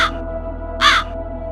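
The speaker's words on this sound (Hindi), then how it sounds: "उसी पेड़ के ऊपर 2 कौवे बैठे थे।" Two crows perched in a tree caw in a storytelling sound effect, two harsh calls separated by a pause, close and clear over a low steady hum.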